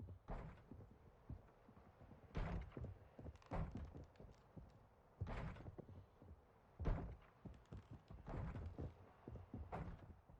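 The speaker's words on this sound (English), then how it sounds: "That is the sound of Joseph Secott himself relentlessly attempting to penetrate a glory hole through your bedroom door" Heavy thuds bang against a bedroom door in irregular bursts of repeated knocks, separated by short pauses. The banging is fairly close and heard on its own.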